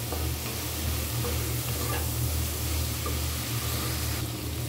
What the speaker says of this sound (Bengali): এখন আমি মশলাটাকে চিংড়ি মাছের সাথে একটু ভালো করে কষিয়ে নিব।